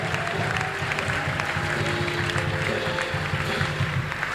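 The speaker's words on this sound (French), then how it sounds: "Acclamons pour le roi des rois." A church congregation claps steadily and loudly, a dense continuous applause filling the room without pause.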